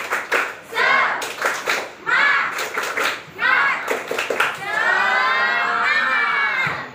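Junior high school students at a traffic safety outreach session chant and clap together in rhythmic bursts. Loud group clapping alternates with shouted chanting and ends in a long sustained cheer.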